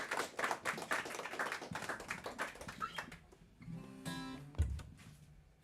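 A small concert audience claps for a performer, a quiet, uneven patter of hands that thins out and fades, with brief low knocks near the end.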